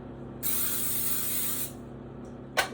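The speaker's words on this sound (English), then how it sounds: "I'm gonna go ahead and spray my pan." A single steady spray of cooking spray onto a pan lasting about a second, close by, followed by a brief second spritz.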